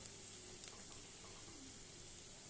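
Taler bora, palm-fruit fritters, deep-frying in hot oil give off a faint, steady sizzling hiss that holds evenly throughout, with a few tiny crackles and pops.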